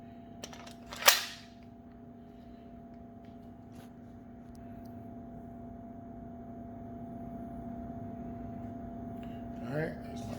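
A T8.1 marker fires one loud, sharp shot close by, followed later by a much fainter pop, against a quiet background hum with a steady steel-pan target setup.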